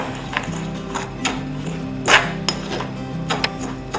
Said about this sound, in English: I'm just going to mix this all in together